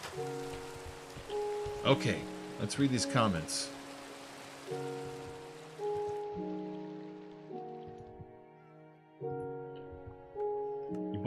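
Rain patters steadily in a Minecraft-like video game under soft tonal background music, while a voice speaks briefly near the start; the rain hiss continues quietly throughout.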